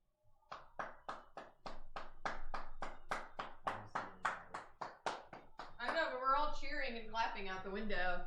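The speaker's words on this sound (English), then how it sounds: "And clapping out the window for Black Lives Matter" People clapping out a window in support of Black Lives Matter, a long run of crisp, evenly spaced handclaps heard from nearby, then a voice talking over the last few claps.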